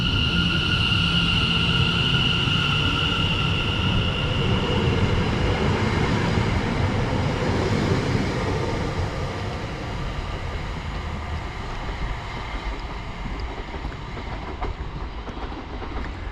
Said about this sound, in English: departing out now is going to be the 1402 Greater Anglia service to Harwich Town from Manningtree